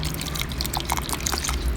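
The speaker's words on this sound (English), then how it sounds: "I water the soil thoroughly." Water pours and trickles steadily onto dense clay-rich soil in a pot, thoroughly soaking it for sowing cactus seeds in the fall. The splashing sounds close and continuous, with no talking.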